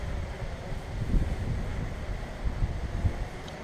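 Gusty wind buffets the microphone during a DJI Mavic 2 Pro drone's hover test, a steady rumbling roar with rising gusts, no talk.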